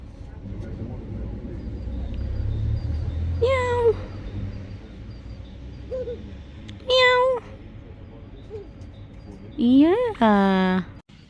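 A cat meows several times in short, clear calls, the last few louder and more drawn out, over a steady low background rumble with people talking nearby.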